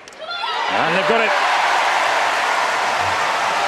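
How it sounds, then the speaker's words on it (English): A large arena crowd at a 2014 Commonwealth Games women's doubles badminton match between Wales and Australia, at the Emirates Arena, breaks into a loud, sustained cheer that swells after a brief voice at the start and roars steadily throughout. "Big cheer in the Emirates"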